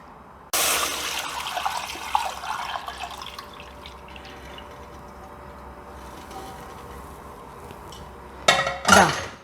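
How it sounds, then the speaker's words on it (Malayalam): Milk poured straight into a traditional uruli for Ambalapuzha pal payasam, with a steady liquid splash and trickle after a sharp start, metallic clinks of the vessel, and a louder burst of pouring near the end. "ഞാൻ ഡയറക്റ്റ് ഇതിലേക്ക് ഇപ്പോൾ പാലൊഴിക്കുകയാണ്."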